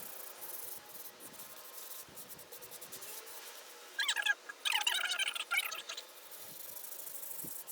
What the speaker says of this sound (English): So I'm just going to do a little bit of scrubbing.